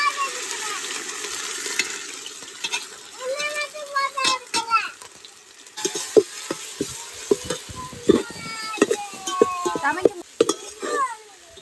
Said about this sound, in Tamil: வெங்காயம் நல்லா ப்ரௌன் கலரில் வதங்கிடுச்சு